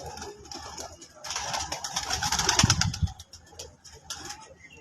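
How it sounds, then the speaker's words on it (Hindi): A racing pigeon in Sheikhupura arrives and coos, soft low throaty cooing and fluttering amid a burst of nearby activity, with muffled voices and a faint engine idling in the background. "200 कमाल का कबूतर आया माशाल्लाह"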